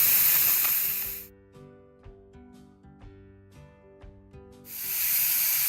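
A Carey pressure canner processing chicken bone broth vents steam in a loud, steady hiss that stops for a few seconds, leaving quiet background sounds, then resumes just as strongly.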